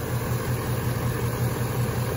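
A 2020 Ford Mustang GT with its 5.0 V8 idles steadily, a close, even low rumble with a faint regular pulse and no speech over it.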